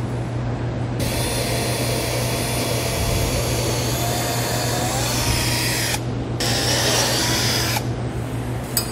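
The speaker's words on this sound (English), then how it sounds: "I'm going to start with a little bit smaller bit just so it doesn't walk as much as I go down through the wood." A power drill bores a hole through wood with a small pilot bit while mounting a Brophy swiveling D-ring anchor, a loud continuous whir that briefly cuts out and restarts, steady and close.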